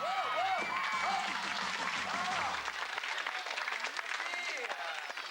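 A television studio audience on a 1990 live Saturday-morning show claps and cheers loudly and steadily, a dense wash of applause with excited voices shouting over it throughout.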